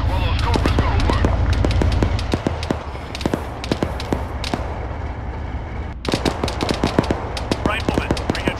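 Rapid automatic cannon fire from AH-1 Cobra attack helicopters in the Arma 3 combat game, loud bursts of sharp repeated shots with a steady low rumble beneath and a brief pause before firing resumes.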